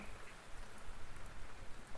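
Steady rain falls throughout, a dense, even hiss of drops pattering on a surface, close and continuous with no voices.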